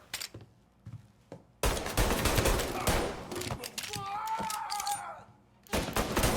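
Bursts of gunfire from a shootout in Mafia: Definitive Edition, loud rapid shots clustered in a long volley after a quiet stretch, with tonal game sounds over the middle and another burst at the end.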